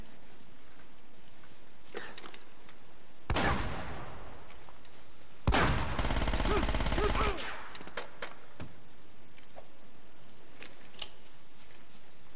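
Gunfire from soldiers in the video game Uncharted: two short loud bursts of shots, the second longer, over a quiet ambient background with faint rustling.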